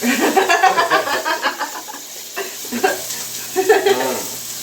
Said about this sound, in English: Just want to saute them down a little bit there, get soft, you know.